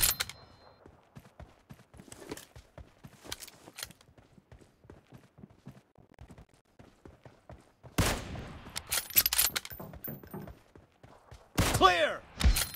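M24 sniper rifle gunfire in the video game PUBG during a team deathmatch in a warehouse, heard as scattered sharp cracks among rapid footsteps and clatter, with louder bursts of shots near the middle and end.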